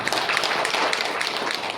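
Audience at an indoor organisation plan show applauding: dense, steady clapping from many hands, close and fairly loud, with no talking over it.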